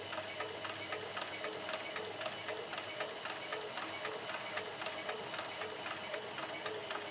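A leather stitching machine sewing through leather in a workshop, running steadily with a fast, even mechanical ticking rhythm throughout, fairly close and unbroken by talk.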